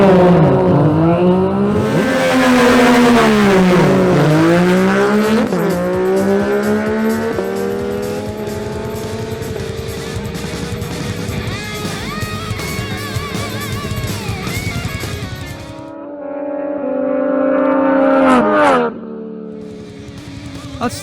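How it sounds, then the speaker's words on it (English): Two Yamaha MT-09 motorcycles rev hard at a drag race start line, loud engine notes climbing and dipping repeatedly, then a sustained roar as they launch and fade, with announcer speech faintly underneath. "next duel is between two Yamaha MT-09 bikes"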